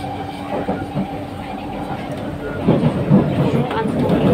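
Crowded MRT train carriage in Singapore riding along the rails, a steady low rumble and rolling rail noise building a little louder toward the end, with people talking faintly beneath it.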